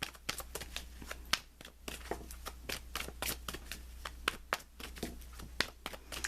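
A Romance Angel Oracle card deck is shuffled by hand in a long run of crisp, riffling card slaps and flutters, close and fairly loud over a faint steady hum, with no talking.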